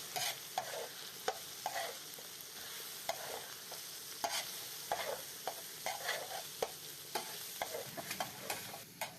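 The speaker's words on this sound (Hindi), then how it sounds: "ये सारी चीजें मिक्स कर देते हैं हम। अल्हम्दुलिल्लाह, अच्छी तरह से मिक्स करेंगे इनको।" Spices with chili powder and fenugreek being stirred together in a pan for a dhaba-style beef liver fry, with repeated scraping strokes of a spoon over a light sizzle, close up and without talk.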